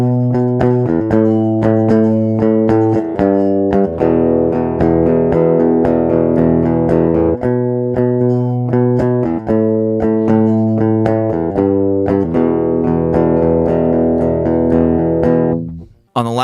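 Electric guitar run through effects pedals playing the bridge of a song: a continuous, shimmering, effect-laden melodic line with ringing sustained notes and steady picking, loud and close, ending abruptly.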